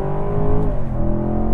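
A Chevrolet Camaro engine revs up quickly toward 4,400 rpm, a loud, close, rising growl heard alone for a moment.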